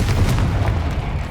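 A Confringo fire spell blast in Hogwarts Legacy erupts as a deep, rumbling boom that fills the short moment with steady low-end weight and no voices.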